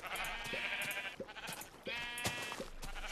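Minecraft sheep bleating in a blocky video game world, several short wavering bleats repeating close up with brief gaps between them, no talking.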